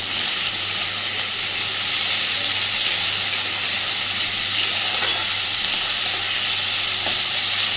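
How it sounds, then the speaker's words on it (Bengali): Onions lightly fried and stirred for an onion-and-poppy-seed dish give a loud, steady sizzling hiss up close, with faint scraping clicks from stirring and no speech. "হালকাভাবে পেঁয়াজটাকে একটু নাড়াচাড়া করে দেবো"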